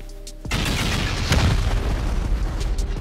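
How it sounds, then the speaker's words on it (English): Rockets slam into a base wall in a survival building game, a sudden loud boom after a brief quiet hum, followed by a rumbling, crackling blast that slowly fades. "I think we should send 4 rockets on any of the sides of these base"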